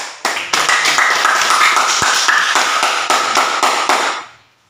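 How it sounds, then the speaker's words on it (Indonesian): A group claps hands together after a discussion session in Indonesia, a burst of rhythmic, fairly loud clapping that runs steadily for about four seconds then fades out. "Mari kita tepuk tangan untuk"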